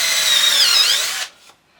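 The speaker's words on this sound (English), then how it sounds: "Drilling our holes while checking that we're going square" A power drill boring a hole into wood while building an end table, a loud, steady high whine for about a second that winds down abruptly, followed by a brief faint trailing spin.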